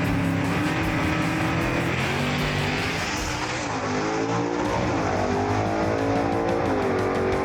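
A Pontiac Chieftain gasser drag race car with a 406 cubic inch Butler Performance motor roars loudly and continuously at a drag strip, its engine note rising and sweeping as it runs, with no voices.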